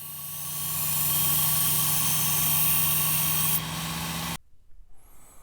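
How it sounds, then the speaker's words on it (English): A Work Sharp knife sharpener runs with its coarse sanding belt grinding a bevel into a knife edge, a steady close motor whine that swells, holds evenly, then shuts off, leaving faint handling noises. "We are using the coarse sander, and then we're going to go to a finer grit to polish it up"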